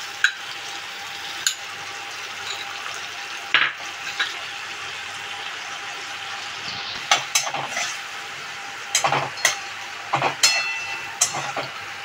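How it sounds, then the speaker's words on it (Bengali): Ginger garlic paste hitting a hot pan of oil for a Bengali fish curry, a soft steady sizzle broken by scattered sharp clatters and scrapes of a spoon against the pan. "এবার আমি দিয়ে দিচ্ছি আদা রসুনের পেস্টটা"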